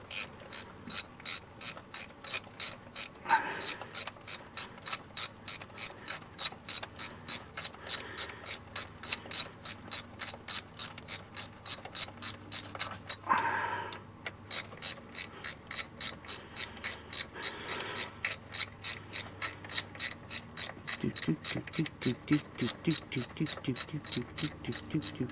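A ratchet drives bolts into an automatic transmission pan on a 1996 Monte Carlo, a long run of fast, even clicking close by, broken by a brief pause and a couple of soft thuds.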